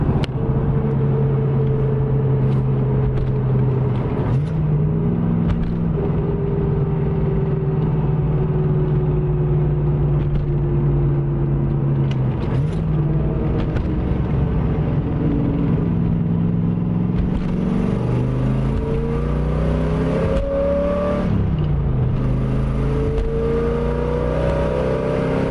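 1982-1992 Chevrolet Camaro IROC-Z with an MGW short throw shifter driving on the road, its engine droning steadily and rising through gears, with pitch shifts at each change and a louder rev toward the end.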